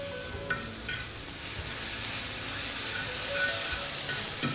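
Ginger garlic paste fries in a hot pan while cooking Nagercoil-style country chicken kurma, giving a steady sizzling hiss with occasional stirring scrapes and small spatters.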